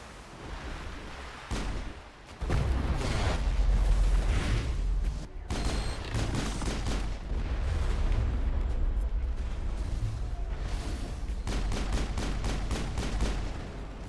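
Artillery fire in the Mass Effect video game: heavy booming blasts and sustained rumbling barrages, loud and almost continuous after a brief quieter opening, with rapid bursts of fire layered on top.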